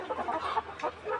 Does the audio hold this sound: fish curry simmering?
no